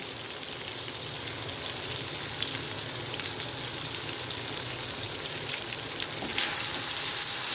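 Food fries in hot oil in a pan with a dense, continuous sizzle that stays loud and even throughout, rising slightly toward the end.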